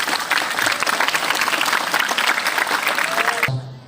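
A crowd at a madrasa gathering bursts into dense, sustained applause with many overlapping hands, which cuts off abruptly near the end.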